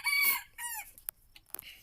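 Öland dwarf chickens: a rooster crows loudly and close in a couple of strained, drawn-out calls, then softer clucks and short clicks follow, with no talking.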